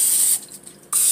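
Cooking spray hisses onto a hot Foreman grill in one steady burst of about half a second, close and loud, with no talk.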